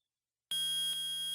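A metal detector in Phoenix Wright: Ace Attorney starts up after half a second of silence, a loud, steady, high-pitched electronic buzzing tone with a brief dip partway through before it resumes.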